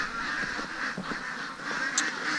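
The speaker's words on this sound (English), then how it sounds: "the old ducks are quacking away" Hungry ducks quack steadily on a chilly morning near a pond, a dense, continuous chorus of calls at moderate distance with no talk over it.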